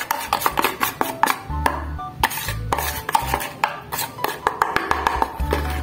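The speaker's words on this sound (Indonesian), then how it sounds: "Kemudian diaduk hingga tercampur merata." Fishing bait dough being stirred with seasoned flour in a bowl, producing a loose series of close clinks, scrapes and taps of utensil against container with uneven rhythm and no talking.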